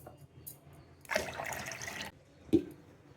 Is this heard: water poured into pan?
yes